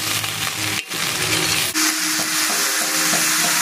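Pancit gisado noodles sauté in a hot pan with a continuous close sizzle and frying hiss, broken by brief stirring scrapes and clinks, with no one speaking.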